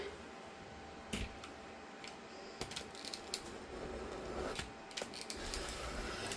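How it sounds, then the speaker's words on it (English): Scissors trim sewn fabric for a scrappy dish-draining mat, giving faint, sparse snips and clicks over a steady room hiss. "Now, I'm going to trim the fabric again."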